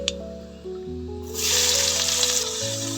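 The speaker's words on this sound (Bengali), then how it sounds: "একটু লাল লাল করে ভেজে নেব" Panch phoron, onion, chili and garlic hitting hot oil and frying: a steady broadband sizzle rises and holds, over a sustained musical tone in the background, with no talking.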